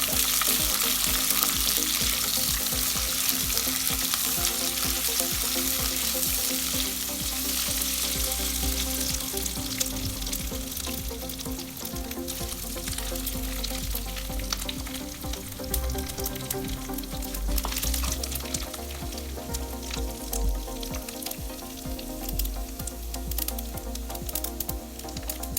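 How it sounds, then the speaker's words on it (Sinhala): Rampe, curry leaves and lemongrass fry in hot oil as the base for a Sri Lankan young-jackfruit curry, giving a dense, steady sizzle that runs loud and unbroken throughout, with faint stirring underneath. "දැන් මුලින්ම රම්පේ, කරපිංච, ඊට පස්සේ සේර ඒ ටික දාලා පොඩ්ඩක් ඒක බැදගමු තෙල් එකට"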